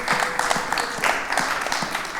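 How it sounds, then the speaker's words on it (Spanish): Church congregation clapping for the Lord during a Spanish-language sermon, a moderately full round of applause with a faint voice or tone threading through it. "Para que darle un aplauso al Señor"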